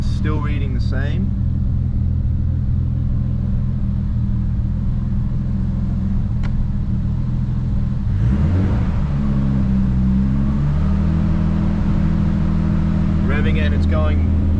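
A Nissan R32 GTS-T engine runs with a steady rumble, then about midway is revved up and lets off, the pitch sweeping up and falling back. Someone talks briefly near the start and the end.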